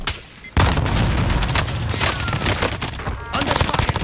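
Video game gunfire, a sudden loud burst of dense rapid shots and booming impacts after a short quiet lead-in, continuing as a sustained close barrage with faint voices underneath.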